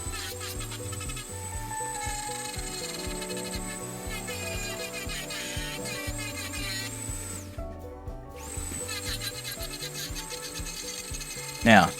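A Dremel rotary tool fitted with burrs carves a wooden teaspoon, a steady high-pitched whine with rhythmic grinding pulses, a brief pause near the middle, and a quick clunk at the end.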